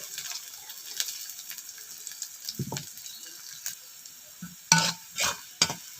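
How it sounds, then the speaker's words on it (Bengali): Chopped onion and garlic go into a generous amount of hot oil, giving a soft, steady sizzle with several louder spatters and stirring scrapes toward the end. "পেঁয়াজ এবং রসুন কুচি দিয়ে দিচ্ছি"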